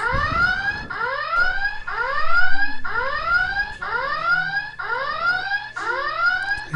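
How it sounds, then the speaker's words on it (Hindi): A Windows pattern-lock alarm triggered by a wrong pattern sounds loud and close: seven rising electronic chirp bursts repeat in a steady, even rhythm with no talking. "ये 1 मिनट तक इसी तरह अलार्म देता रहेगा।"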